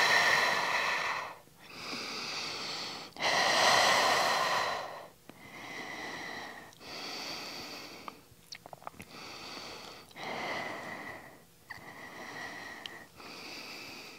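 Core breathing during a resistance band lower-body workout: about eight slow, close breaths alternate between long inhales and exhales with short pauses between them, with no talking.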